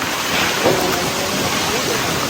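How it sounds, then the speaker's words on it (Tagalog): Rain falling during a hike up Linantao Peak, a steady, even hiss that holds at one level throughout, close and fairly loud, with no clear pauses. "Ulan manggod. Ulan."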